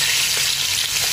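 Lizard stew ingredients with chili sautéing in a little hot oil, a loud, dense, continuous crackling sizzle heard up close with no voices.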